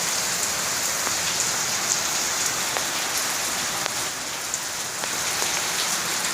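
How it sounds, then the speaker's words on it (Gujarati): Heavy rain pours steadily onto surfaces outdoors, a dense, even hiss with scattered drop taps throughout and no clear thunder. "ગાજવીજ સાથે વરસાદ ચાલુ થઈ ગયો છે"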